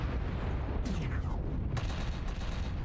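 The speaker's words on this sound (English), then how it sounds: "There we go, shooting right from the hip" A mech's weapons firing in MechWarrior Online: two heavy booming shots about a second apart over a dense, constant rumble of battle noise.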